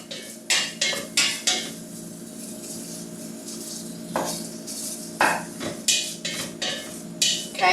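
A knife cuts a chipotle pepper in half on a hard surface, giving a series of sharp close knocks and clacks in uneven clusters, with a quieter stretch in the middle.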